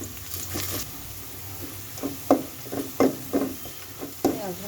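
Cinnamon and polao rice frying in a pan with vegetables, a soft sizzle under a series of spaced scraping stirs of a spoon against the pan, close by.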